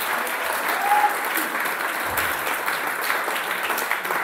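Congregation clapping steadily at a church service, a sustained wash of applause with scattered cheers, a faint voice briefly audible under it.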